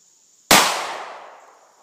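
A single loud, close handgun shot fired with Hornady Critical Defense ammunition at about 15 feet, a sharp crack followed by a long decaying echo, with no talking.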